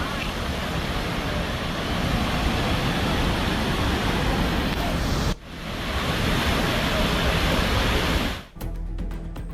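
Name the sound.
river flowing, murmuring stream of water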